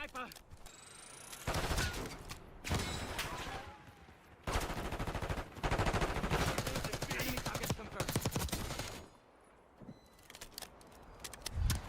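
Rapid bursts of Call of Duty: Black Ops 6 gunfire rattle in several long volleys separated by short pauses, loud and close.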